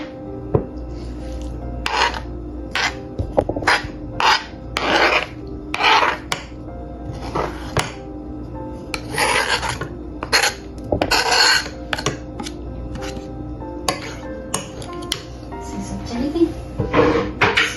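Chopped fresh parsley and garlic are stirred into a shawarma sauce in a bowl, giving repeated scraping, rubbing strokes in irregular bursts, with a voice talking over it.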